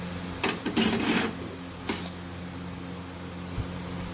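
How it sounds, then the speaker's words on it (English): Screws being removed from the front cover of a PTAC air conditioning unit, with a few short whirring bursts and clicks from a driver near the start over a steady machine hum. "I'm going to remove these 5 screws"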